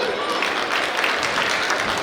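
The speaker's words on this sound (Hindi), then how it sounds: "ताली लगा।" Applause fills a large venue during a felicitation ceremony for Delhi's Chief Minister, ministers and legislators, a steady dense clatter of many hands across the whole stretch with no pauses.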